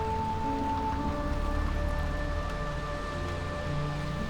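Steady rain falls in a quiet evening scene, a soft, even wash of drops with faint sustained tones underneath and no speech.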